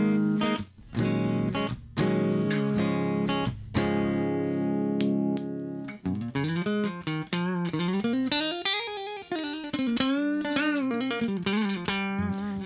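Electric guitar with a Strat-style tone played through effects, sustained chords at first and then a bending, wavering lead line, loud and up close with no talk.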